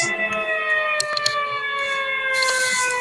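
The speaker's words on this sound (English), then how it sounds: "quick pause for these sirens" Several emergency sirens pass through a New York City street, a loud sustained wailing with steady multi-tone howls, accompanied by traffic noise and a brief hiss late in the sequence.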